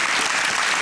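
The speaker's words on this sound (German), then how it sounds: "das war so laut, das Publikum" A studio audience at a German TV game show applauds loudly, a dense, continuous burst of clapping that fills the brief moment without pause.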